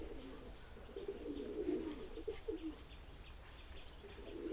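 Pigeons at a flying-pigeon sale coo softly in low, rolling phrases, fairly faint with a light outdoor hum and a brief chirp.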